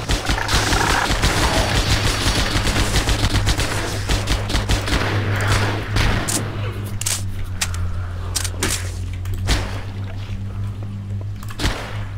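Rapid turret gunfire from the Halo SPV3 mod, loud bursts of automatic fire that thin out into scattered shots over a steady low engine hum, with faint voices underneath.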